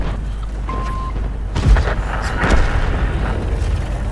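Dull, booming gunshots from a video game, two heavy thumps over a constant rumbling background, no speech heard.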